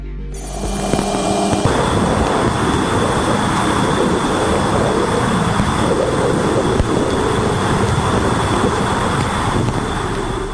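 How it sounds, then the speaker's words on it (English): Electromagnetic waves from the gas giant Uranus, picked up by Voyager 2's plasma wave antenna, heard as a loud, steady roaring static hiss with a faint high whine, unbroken throughout after a short opening crackle. "This is the sound of the electromagnetic waves coming from the gas giant Uranus, as recorded by the Voyager 2 spacecraft's plasma wave antenna."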